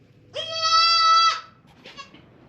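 A baby goat gives one clear, loud wavering bleat nearby, followed by a fainter short second call on a quiet background.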